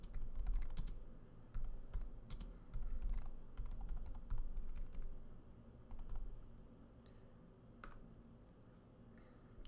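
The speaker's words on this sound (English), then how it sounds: "We'll type in just any random address." Someone types an address on a computer keyboard, with quick runs of close, quiet key clicks broken by short pauses and spreading out toward the end.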